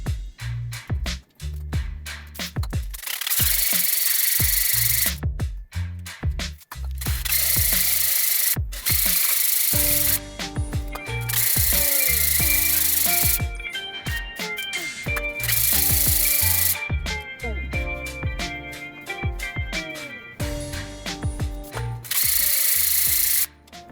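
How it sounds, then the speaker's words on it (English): A power drill hones the engine cylinders of a BMW 330i in repeated loud bursts of whirring and grinding, broken by short pauses, with scraping, ringing metallic tones during the longer runs. "I was ready to hone the cylinders."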